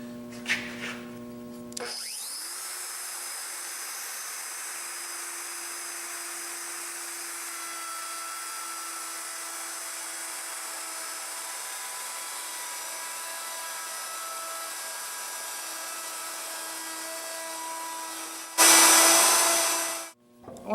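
An electric router spins up to a loud, steady high whine and runs for a long stretch, then bites into the wood with a louder rasping cut as it shapes a profile on a top and base.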